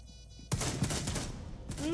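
Gunfire in Rainbow Six Siege: a sudden loud burst of shots and rapid firing breaks in after a quiet moment, followed by a dense clatter of game effects and a rising tone at the end.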